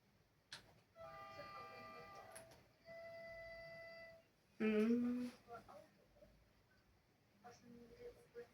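Trains in a video game, with steady hum-like tonal passes and a short loud horn-like blast in the middle, amid softer game sounds and background noise.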